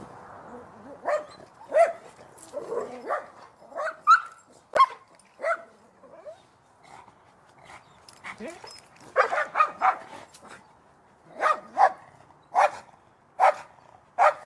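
A dog barks and yips in short, sharp bursts while chasing another dog, some barks clustered and others spaced apart, moderately close, with quieter scuffling and whimpers between them and some background talk.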